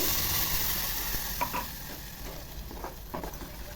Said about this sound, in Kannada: ಅದು ಕೂಡ ಹಸಿ ವಾಸನೆ ಹೋಗೋವರೆಗೂ ಫ್ರೈ ಮಾಡಬೇಕು